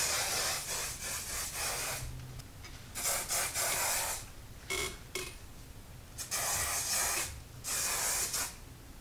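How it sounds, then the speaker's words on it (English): Hairspray hisses from an aerosol can onto styled curly hair in several separate bursts of one to two seconds each, close and fairly loud, with short quiet gaps and faint handling sounds between them. "We're now going to use the hairspray."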